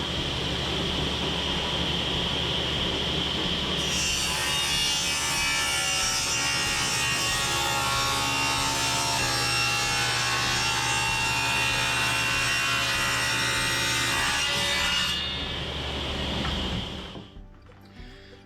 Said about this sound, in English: it's a piece of 2x8, so I should be able to cut it in half and get 2 pieces of 2x4